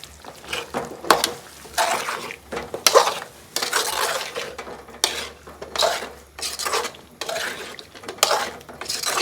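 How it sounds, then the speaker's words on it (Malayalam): Lovi-lovi fruit being stirred into a pickle mixture in a metal vessel, rhythmic bursts of wet scraping and spoon clatter against the pot, repeating about once a second, near and fairly loud with no speech. "ലവലോലിക്ക് ഇട്ടിട്ട് ഇളക്കി കൊടുക്കുന്നുണ്ട് കേട്ടോ."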